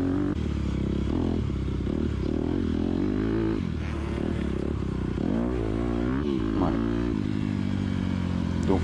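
Motocross motorcycle riding a dirt track, with a steady loud engine drone that rises and falls over rattling and scraping. The ride is heard close up from on the bike, and no one talks.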